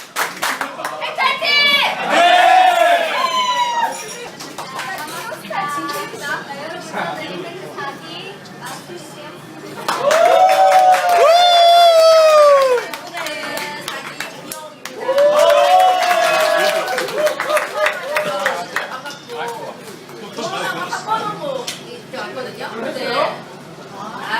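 A group at a reunion gathering claps after a toast, in three separate bursts spread across the stretch, each mixed with loud voices calling out together, with quieter chatter between the bursts.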